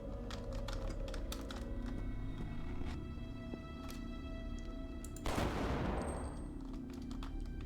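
Rifle gunfire in a PS1 demo disc video game sounds as a string of sharp, quick clicking shots, followed by one louder, noisy blast that rings out and decays.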